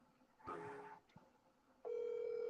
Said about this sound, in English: his phone busy.